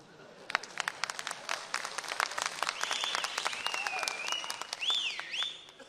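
A crowd at a political speech by Karnataka Chief Minister Siddaramaiah bursts into loud, dense clapping, with sharp whistles rising through it and fading near the end.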